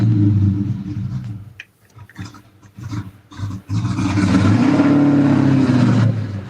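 A Ford Mustang Boss 302 V8 with a suspected failing throttle position sensor idles roughly, dips and sputters, then revs into a loud, sustained rumbling roar close by before easing back down.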